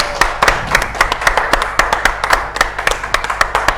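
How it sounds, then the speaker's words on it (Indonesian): Audience members clap for a top leader at a business event, with distinct, fairly rhythmic hand claps of moderate density. The claps land close and crisp over a low background hum. "Kita tepuk tangan dulu dong."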